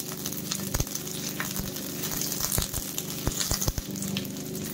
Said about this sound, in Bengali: হাই ফ্লেমে আমি প্রথমে আমার ছাড়িয়ে রাখা পেঁয়াজগুলোকে দিয়ে দিচ্ছি